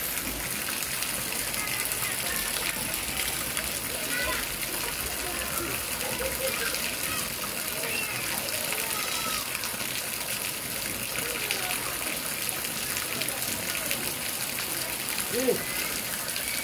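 A steady, dense hiss of heavy rain pours down without a break, loud and close, while a voice talks faintly beneath the downpour.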